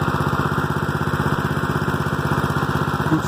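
A small gasoline trash pump engine used for irrigation runs steadily at close range, a loud, even, rapid putter with no talk over it.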